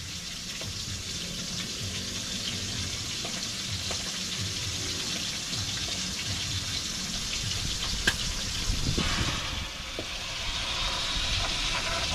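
Food frying in a pan during home cooking gives a steady sizzling hiss at moderate level throughout, with a brief clink and a rising surge of crackle near the end.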